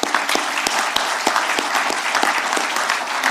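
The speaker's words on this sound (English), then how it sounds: "Let's give them a round of applause." An audience gives steady, dense applause for long-serving employees of the veterans' hospital in Chelsea, with sharper individual claps standing out close by.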